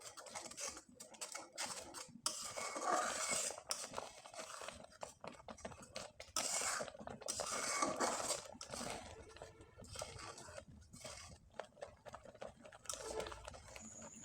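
Jackfruit pitha batter ingredients being mixed together in a bowl, giving a steady, busy stream of close, soft scraping and patting with brief pauses, and no voices.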